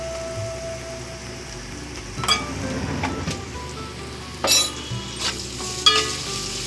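Onions with ginger-garlic paste fry in a pan for chicken curry, a steady close sizzle with a few sharp stirring scrapes and clatters rising over it, no voices.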